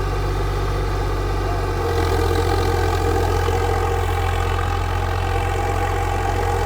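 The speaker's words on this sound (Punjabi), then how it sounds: "ਆਪਾਂ ਨਾਰਮਲ ਬੀਜ ਬਜਾਈ ਕਰਨੀ ਹੈ ਜਮਾ ਆਰਾਮ ਨਾਲ ਟਰੈਕਟਰ ਤੇ ਚੱਲਣ ਲੱਗ ਰਿਹਾ ਹਾਂ" A tractor engine runs steadily during seed sowing, a loud, close, continuous low diesel drone with a slight step up in pitch partway through and no talking.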